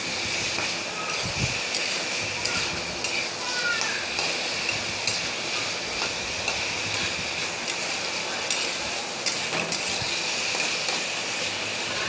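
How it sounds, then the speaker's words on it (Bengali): Potato and ridge gourd cook in a pan with a little added water, giving a steady, loud broadband sizzle and hiss. The sound runs unbroken throughout, close by, with faint clinks now and then. "ঝিঙ্গা আর আলু দিয়ে দিয়েছি কষিয়ে নেব একটু জল দিয়ে"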